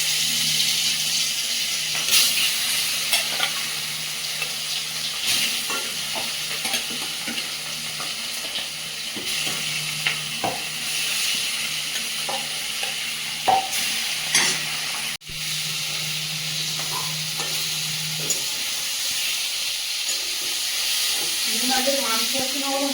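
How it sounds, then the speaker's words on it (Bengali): Fish frying in hot oil in a wok, a steady loud sizzle with crackles and bursts of spattering that runs the whole time, with occasional clinks of stirring. "মাছগুলো ভেজে দেবো।"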